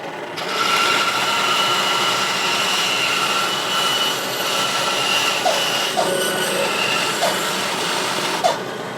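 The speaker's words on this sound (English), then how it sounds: "I'm going to use my bandsaw to cut off some of the excess before we go to the router table." A bandsaw trims excess wood from a rough workpiece, a steady, loud mechanical whine with a constant high tone running throughout, a few faint clicks near the end and no talking.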